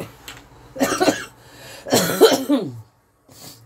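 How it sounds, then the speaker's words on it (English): Two rough, throaty coughing bursts close to the listener, separated by a short pause, followed by a faint breath. "Sorry, I've got a little bit of cough, haven't I?"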